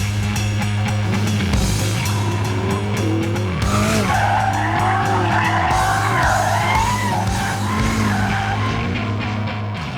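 Hard acceleration in a Land Rover Defender with the throttle held flat and traction control managing rear-wheel slip, giving a loud, sustained engine roar with tyre squeal and skidding that rises and falls throughout.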